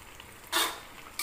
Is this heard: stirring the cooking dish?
yes